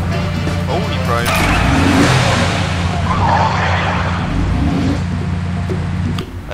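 Game car from Sam & Max: Save the World driving with a steady engine drone and brief skidding noises, layered over game music and sound effects, with speech likely present.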